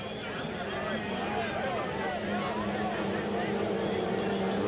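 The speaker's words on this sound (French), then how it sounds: "Yann Lecomte, toute une accélération." A 2.5-litre racing powerboat accelerates during a heat at Valleyfield, its engine a loud continuous roar with rising and falling pitch sweeps under steady commentary.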